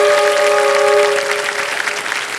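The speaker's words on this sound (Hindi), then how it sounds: "एक बार फिर रौनक जी के लिए हम ताली बजाएंगे" Studio audience at the KBC quiz show breaks into loud, dense applause for a contestant, with a steady musical tone held underneath during the first part.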